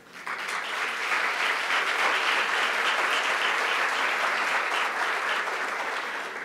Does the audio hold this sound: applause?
yes